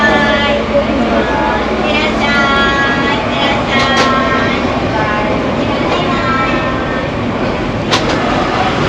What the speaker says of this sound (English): You know how much we love train rides.